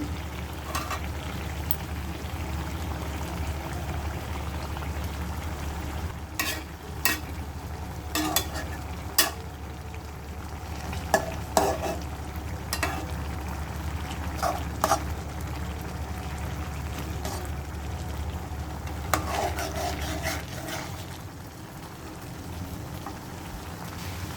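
Egg cooking in an oiled pan over a village kitchen fire, a soft continuous sizzle under a low rumble, broken by irregular spatula clicks and scrapes against the pan, fairly quiet.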